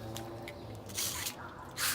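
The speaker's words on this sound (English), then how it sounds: "I'm just pouring water over it." Water is poured over the lower unit of a 1956 30HP outboard motor during wet sanding with P400 paper, giving close, hissing, splashy bursts that swell and fade over a steady low background.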